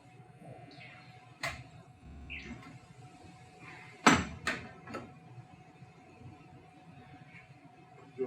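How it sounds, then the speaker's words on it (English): Metal clunks and clicks as the door and pivot arm are taken off a SaniServ Model B batch freezer ice cream machine, a few separate knocks with a sharper cluster near the middle, fairly quiet and close. "Going to get the door and pivot arm off."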